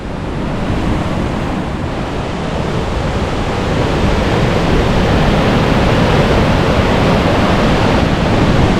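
Floodwater from the Guadiaro river rushes past Benaoján station, a steady, loud, broadband roar of churning water that holds constant and swells slightly toward the end, with no voices.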